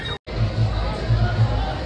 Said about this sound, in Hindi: कितनी ज़्यादा भीड़ है हमारी।